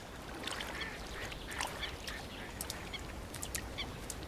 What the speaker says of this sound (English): Among the mallard ducks, mating is already in full swing.